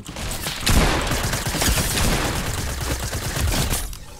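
Rapid gunfire in the battle royale game Fortnite, with overlapping bursts of shots forming a loud, continuous volley that swells and dips over about four seconds.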